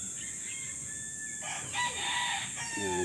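Parikoy gamefowl roosters of a super brown red line crowing, with a couple of overlapping crows rising near the end against a steady background hum.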